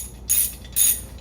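Ratchet wrench backing out hub bearing bolts on a 2005 Honda Civic: three quick bursts of clicking, close and crisp, separated by short pauses.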